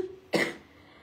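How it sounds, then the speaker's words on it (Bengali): A single short, close cough bursts out after a moment of quiet background, then fades. "একটা কথা বললে 10টা কাশি দেই।"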